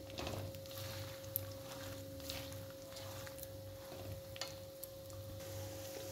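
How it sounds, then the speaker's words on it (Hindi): Dates and cashews roast in a pan with a faint, steady sizzle, punctuated by light scraping taps of stirring over a low background hum. "और सभी चीज़ों को अच्छे से लाइट गोल्डन भूनते हैं।"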